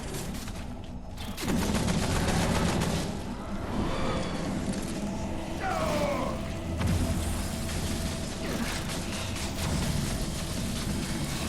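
Automatic turret gunfire in the video game Remnant From the Ashes: dense, continuous bursts of rapid shots rattle on throughout, loud and close, with faint game effects mixed in.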